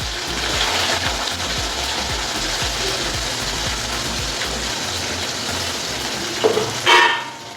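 Onions and whole spices, including garam masala, cumin and a bay leaf, fry in hot oil for a chicken and cabbage dish, a steady close sizzle with scraping stirs and a clatter near the end.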